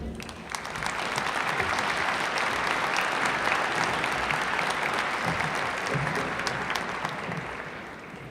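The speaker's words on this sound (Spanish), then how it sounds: "Recibamos con un fuerte aplauso" An audience at a business event in a university hall applauds a senator's introduction with steady, dense clapping that holds strong for several seconds before easing slightly.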